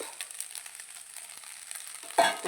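Moringa leaves drop into a pan of frying egg, giving a steady close sizzle that flares louder and more crackly near the end as the leaves hit the hot oil.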